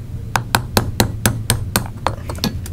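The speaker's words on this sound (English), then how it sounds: "There's a roll pin right there. Just set that and hammer this out." Hammer tapping out a roll pin from a Beretta 92FS pistol during disassembly: about a dozen sharp metallic strikes, fairly regular at first then quicker and uneven, close and clear over a low steady hum.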